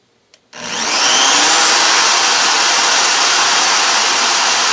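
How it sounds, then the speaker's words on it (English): A power drill bores into an MDF sheet, starting abruptly after a faint click and holding a loud, steady, harsh whirring grind close by. "I drilled two holes to mount the top half of the enclosure to it"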